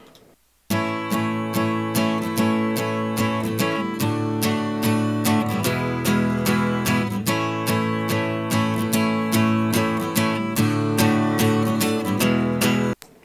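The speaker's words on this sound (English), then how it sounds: "Now, take an acoustic guitar," Acoustic guitar strummed in a steady rhythm, a dense run of repeated chords ringing continuously and fairly loud for about twelve seconds, with no voices over it.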